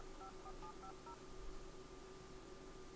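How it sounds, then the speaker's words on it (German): Telephone keypad tones from The Sims 2: a short sequence of faint DTMF beeps as a number is dialed, a few quick pips, then a steady low hum. "Ich glaube, wir rufen den Norbert aber trotzdem mal an"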